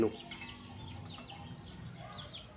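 Burmese fighting chickens in a rural village yard, soft scattered clucks and low calls at modest distance, fairly quiet throughout.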